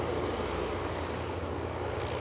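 Steady, loud drone of the Goodyear blimp's Lycoming piston engines running under differential thrust, heard close and continuous without any talk.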